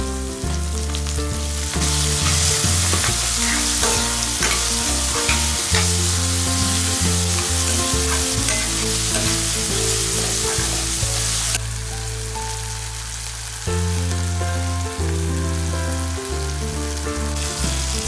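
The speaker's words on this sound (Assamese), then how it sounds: "লগতে বিলাহীখিনিও দি দিলোঁ।" Tomatoes, salt and turmeric fry in hot oil for an Assamese chicken curry, giving a continuous crackling sizzle beneath steady background music.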